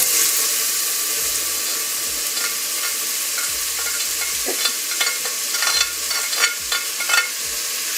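Onion, tomatoes and thyme hit a very hot pan, sending up a loud, hissing sizzle at first that settles into a steady crackle, with intermittent scrapes and clinks of stirring close by and no talking.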